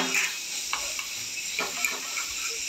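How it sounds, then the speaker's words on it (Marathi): Grated raw papaya stirred in a hot oil tempering in a pan, with a soft steady sizzle and a few light scraping stirs, close and fairly quiet, no talk. "खीस परतून घ्यायचं आहे."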